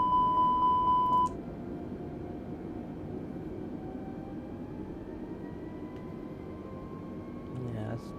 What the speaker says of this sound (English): it's a bit overly sensitive, the airspeed alarm there